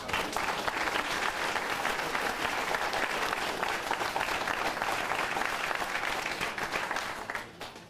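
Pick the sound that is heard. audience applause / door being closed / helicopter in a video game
audience applause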